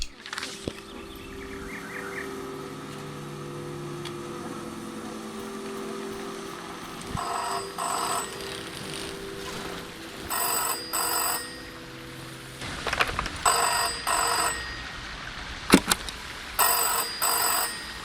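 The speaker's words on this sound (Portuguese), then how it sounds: "eu gravo o telefone tocando" A telephone ringing in the video game Season: A Letter to the Future, repeated bursts of electronic ring tones over a quiet ambient bed with faint bird-like chirps, the rings growing more frequent toward the end.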